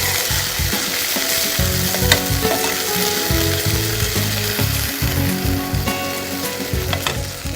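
Ginger and coriander fry with hung curd in a pan, sizzling loudly and steadily while a spoon stirs and scrapes the metal in an uneven rhythm, with no voices.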